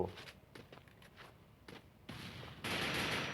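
Gunfire in the video game Arena Breakout: muffled shots and scattered bursts give way to a dense, continuous rattle of fire that grows louder toward the end.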